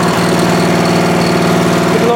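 Small Briggs & Stratton engine idling steadily just after a Flo Jet carburetor rebuild, a loud, close, even putter throughout with no talking.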